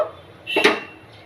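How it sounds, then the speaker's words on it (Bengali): A lid is set onto a pot of moong dal cooking on the stove, making one short metallic clank amid a quiet kitchen. "এবার আমি একটু ঢেকে দেব।"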